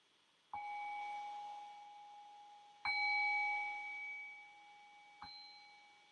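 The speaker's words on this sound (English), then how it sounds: "I'll ring the sound of the bell here" A meditation bell rings three times, each a clear metallic strike with a long, slowly fading shimmering tone, alone in a quiet room.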